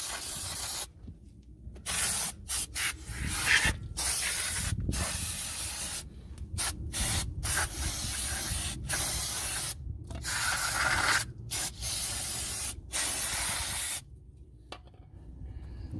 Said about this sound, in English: I'm gonna spray the back of the rotor.